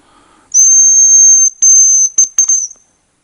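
A loud, high, steady whistle blown to call a hunting dog, in several long blasts with short breaks between them, heard alone outdoors in the taiga in the evening.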